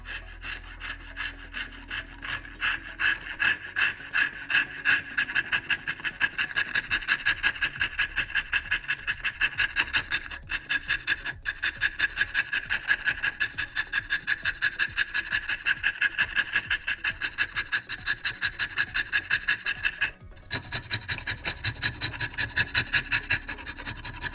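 Hand file rasping a Sabine Wren helmet piece with steady back-and-forth strokes, close and loud, an even rhythm that keeps going for over twenty seconds with one short pause.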